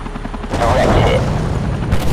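Heavy AC-130 gunship fire in the mobile shooter Modern Combat 3, a loud sustained barrage of booming rounds and rattling gunfire kicking in after a brief quieter lead-in and continuing to the end.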